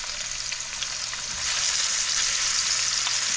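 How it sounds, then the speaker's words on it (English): Pompano fillets sizzle in a pan of olive oil and butter, a steady close crackling hiss that swells louder partway through, with no talking. "You can hear it starting to sizzle."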